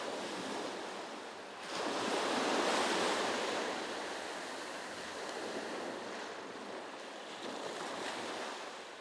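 Sea waves wash against the coast near Janjira fort, a broad close roar of surf that swells and eases alone, with no talking.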